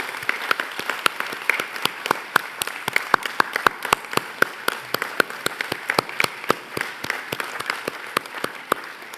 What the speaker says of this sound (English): join me in applauding the wonderful